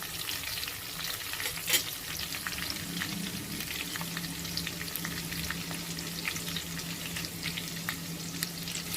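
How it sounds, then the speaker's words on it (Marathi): Spices temper in hot oil in a pan for a karela (bitter gourd) bhaji, a steady, soft sizzle and crackle heard close up with a few stirring scrapes and no talking. "आता इथे आपली फोडणी चालू आहे"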